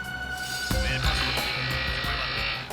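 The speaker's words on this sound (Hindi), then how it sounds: "ग्राइंडर की आवाज आ रही थी।" A steady mechanical whir from a small motorised grinder, running continuously with a few clicks and knocks on top, moderately close.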